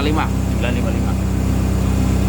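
A Komatsu SAA4D102E diesel engine on a D31PX-21 dozer idles at about 955 rpm, a loud, steady low rumble with an even throb, under someone speaking nearby.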